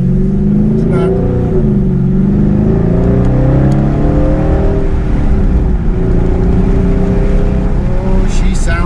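A 2019 Dodge Charger SRT 392 Scat Pack V8 under way on a test drive, held in third gear, gives a loud, steady engine drone with rising and falling pitch as the revs shift, heard from inside the car.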